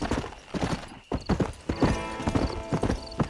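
Horse hooves clip-clopping in the video game Red Dead Redemption, rider on horseback near Fort Mercer, a close, brisk rhythmic patter of hoofbeats with a short gap partway through.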